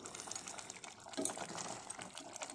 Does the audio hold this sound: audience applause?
no